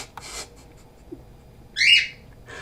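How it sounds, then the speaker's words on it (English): A bird calls outdoors, with a couple of faint early chirps and then one louder squawking whistle near the end, set against a quiet background. "God, I hate that bird."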